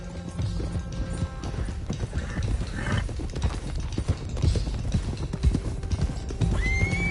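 Horses gallop in Red Dead Redemption 2, with steady clip-clop hoofbeats throughout and a whinny rising over the running herd, with no talking.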